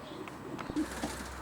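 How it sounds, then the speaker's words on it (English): A racing pigeon gives a few soft, low coos, faint and close against a quiet background hum. "It's a fabulous looking pigeon, John, isn't he?"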